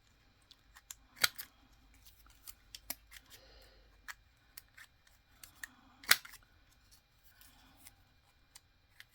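Scissors or a cutter trimming and rounding the edges of fabric tags: quiet, sparse snips and clicks with light rubbing between, no talk.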